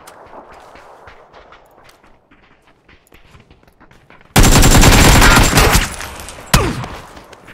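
Gunfire erupts in a PUBG squad match: a loud, sustained automatic burst breaks through quiet background noise, then a second sharp volley follows moments later.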